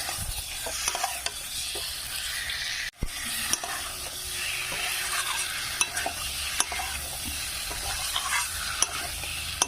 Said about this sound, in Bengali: ডিমগুলো দিয়ে একসাথে ভালো করে আমি এবার এটা কষবো